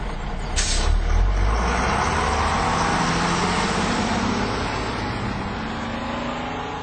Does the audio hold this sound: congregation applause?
no